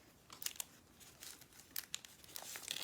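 A paper envelope is handled up close, giving soft crinkles and a few sharper rustling snaps at irregular intervals, fairly faint, with no talking.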